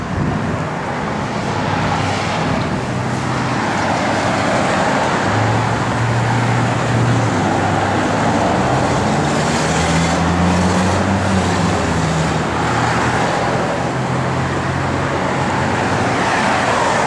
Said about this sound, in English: I think you'll really like it when we fire it up here.